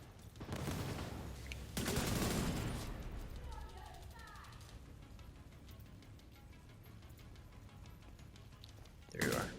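Bursts of gunfire in The Division 2, loud rapid volleys near the start then a quieter spell, with a final close burst at the end, while someone talks over the action.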